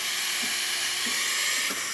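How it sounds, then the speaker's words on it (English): Steam hisses steadily from the wand of a Breville Express espresso machine fitted with a new pressure gauge, a continuous broadband rush with faint low knocks underneath and no talking. "nice steady steam coming out of the machine"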